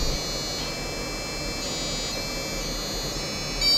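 An Arduino piezo buzzer controlled by a photoresistor sounds a steady electronic tone, fairly faint and even, with a slight swell in level at the very end.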